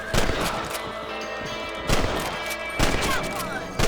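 Rifle shots at rabbits in the Red Dead Redemption game, three or four sharp reports spaced about a second apart over steady game ambience, with voices partly heard between them.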